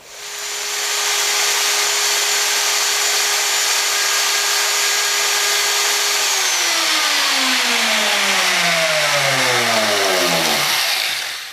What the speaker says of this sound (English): I'm going to switch to a router because the last thing I want to do is make this hole too big